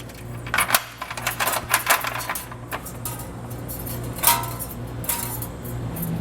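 Metal trailer hitch hardware drops out of a car frame during installation of an EcoHitch hidden receiver on a 2021 vehicle, giving several sharp metallic clinks and rattles, fairly close, over a steady low hum.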